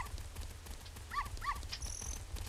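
A dog in The Legend of Zelda Ocarina of Time gives two quick barks, faint and close together, over a low steady background hum.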